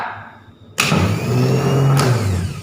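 An automotive starter motor spins freely in a no-load bench test with its pinion turning. It cuts in abruptly with a loud, steady whirring drone and gives a brief click partway through.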